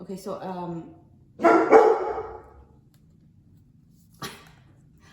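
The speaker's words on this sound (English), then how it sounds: "I apologize for the barking" A dog barks a few times, near and loud, with a brief voice at the start and a single sharp bark after a pause.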